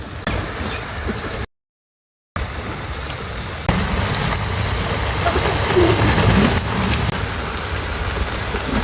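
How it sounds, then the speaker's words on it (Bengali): Cabbage pakoras fry in hot oil on a winter morning, giving a continuous close sizzling hiss that briefly cuts out, then resumes slightly louder and steady. "এবার আমি বড়াগুলো ভেজে নিয়ে"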